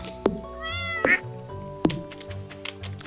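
A cat meows in the Stardew Valley farming video game: a few drawn-out, rising and falling meows mixed with soft game thuds and background music tones, with no talking.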